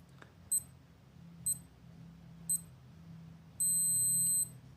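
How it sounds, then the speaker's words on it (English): Three short electronic beeps about a second apart from a G-Shock GBA-950 watch timer counting down, then a longer continuous beep, faint and close in a quiet room. "5 seconds before the timer is up, also it will beep like this"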